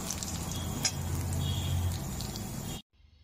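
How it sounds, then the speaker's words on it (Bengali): Rui fish frying in oil on medium heat gives a steady, dense sizzle that holds evenly for nearly three seconds, then cuts off abruptly into near silence. "প্রথমে আমি মাছগুলি ভেজে নিচ্ছি অল্প মিডিয়াম ভাজবো"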